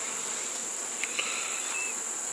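Honeybees hum steadily around a hive during a queen problem, with a continuous soft drone and a few brief, faint high buzzes from bees flying close by.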